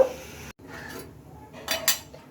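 A metal lid clatters onto a cooking pot, a couple of short bright clinks of cookware close by with light scraping before them.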